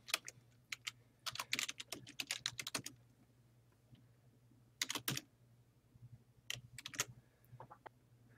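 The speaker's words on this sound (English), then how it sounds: "So now that I have the URL, I can go ahead and type in where the image came from." Fingers typing an image citation on a computer keyboard, close and clear, in quick bursts of clacking keystrokes separated by short pauses over a faint steady hum.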